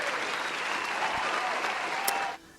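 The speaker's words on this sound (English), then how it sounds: "We'll give you a big round of applause. If I can find my round of applause button." Canned applause sound effect triggered from a button during a live stream: a dense, steady burst of clapping and cheering that holds at full level for about two seconds, then cuts off abruptly.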